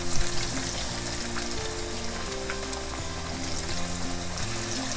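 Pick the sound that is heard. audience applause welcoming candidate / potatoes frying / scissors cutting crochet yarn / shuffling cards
potatoes frying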